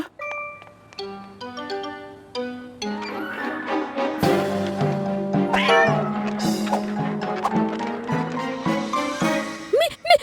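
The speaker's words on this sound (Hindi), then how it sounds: "मीला बिल्ली को बचाओ।" A cartoon cat meows and yowls in a drawn-out, wavering cry that rises and falls over bright, tuneful chime-like music.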